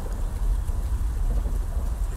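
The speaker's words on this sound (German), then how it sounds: "dieser Donner." Steady rain with a deep low rumble of thunder in the horror adventure game Vlad Circus, a continuous dense wash heard alone without talk.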